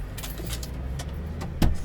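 Keys jingle and clink in a few quick bursts close by, over a low rumbling background like an idling truck.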